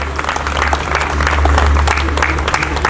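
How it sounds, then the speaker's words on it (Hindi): Loud, dense applause from a hall audience welcoming doctors onto the stage at a gathering with knee replacement patients. Many hands clap continuously and close over a steady low electrical hum. "जोरदार तालियों से इनका स्वागत कीजिए।"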